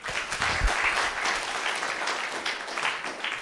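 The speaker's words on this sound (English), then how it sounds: "Proper applause for Liz." Clapping from an audience at a project closure event, a dense patter of hands that holds steady for a few seconds and fills the room.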